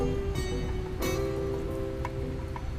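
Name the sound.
rain falling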